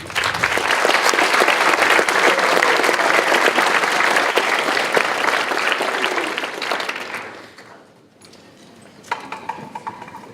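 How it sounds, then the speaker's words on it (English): Loud, dense applause from a large audience at a high school math league tournament fills the room for about seven seconds, then fades out with a few scattered claps trailing off. "a huge round of applause to all of our coaches"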